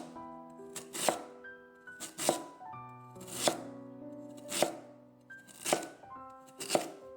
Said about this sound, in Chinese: 然后再把红薯切成薄片，尽量切得薄一点，更容易蒸熟